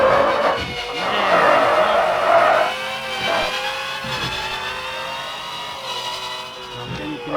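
A powerful car's engine revving hard while driven fast, a loud, close, rising and falling roar that surges early, then settles into sustained high-revving strain.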